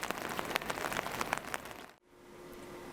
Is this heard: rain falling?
yes